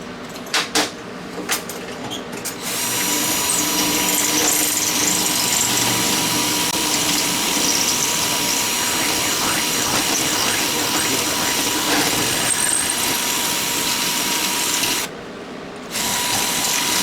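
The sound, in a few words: drill boring out a port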